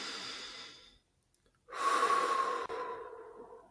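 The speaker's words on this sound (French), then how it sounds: "Et vous allez pouvoir prendre une grande inspiration maintenant." A deep breath in taken during a guided meditation, with soft breathing that fades to near silence before a long, loud, drawn-out inhalation near the microphone.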